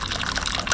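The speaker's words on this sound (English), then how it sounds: "now I fill the cup with" Hot water near boiling poured from a kettle into a cup for Lipton milk tea, a steady splashing gush close by and fairly loud, without speech.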